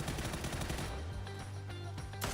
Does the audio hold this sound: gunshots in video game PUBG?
yes